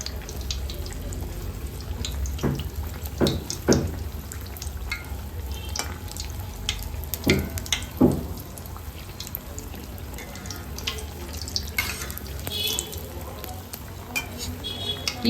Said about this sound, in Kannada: ಮೇಲ್ಗಡೆಯಿಂದ ಈ ರೀತಿ ಎಣ್ಣೆ ಹಾಕೊಳ್ಳೋಣ. ಎಣ್ಣೆ ಚೆನ್ನಾಗಿ ಕಾದಿರಬೇಕು.